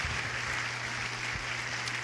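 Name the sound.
audience applause at graduation ceremony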